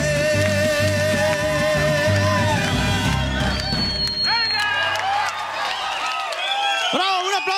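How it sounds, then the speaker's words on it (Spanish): Studio audience applause and cheering after a singer's performance on a celebrity impersonator talk show, a loud crowd rising over fading music with someone speaking on top. "¡Un aplauso!"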